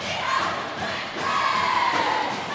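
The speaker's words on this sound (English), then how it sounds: "we got to see some of this crowd action" A crowd roars and cheers in a high school basketball championship gym during a tense fourth quarter, a dense continuous swell of many voices with rising surges.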